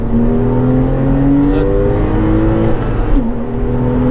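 A Porsche 996 Carrera 4S engine droning at steady high revs up to 4,000-5,000 rpm around 60-70 km/h, its tone rising slowly, then dipping briefly as it shifts, loud and continuous inside the cabin.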